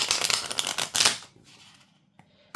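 Tarot cards shuffled by hand in a quick, dense riffle lasting about a second, then a few soft shuffling rustles and a sharp snap at the end, close and alone.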